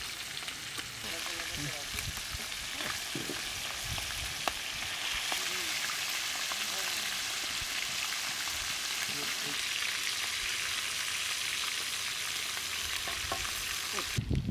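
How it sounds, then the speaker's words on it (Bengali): Meat sizzles and crackles steadily in a hot pan, a continuous bright frying hiss with occasional stirring clatter, close and fairly loud. "গোশটা ভাজা হয়ে গেছে, এখন আমরা উঠে ফেলবো।"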